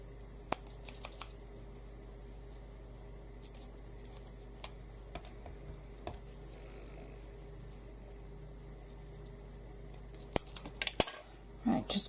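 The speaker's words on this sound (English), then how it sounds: "I'm just going to snip the little pips off where they've been attached." Scissors snipping small attachment pips off die-cut card pieces for a Halloween card, a few faint sharp clicks scattered over a quiet room with steady low hum, plus a louder handling rustle at the end.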